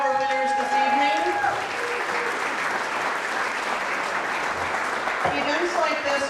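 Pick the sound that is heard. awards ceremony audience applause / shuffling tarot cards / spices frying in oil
awards ceremony audience applause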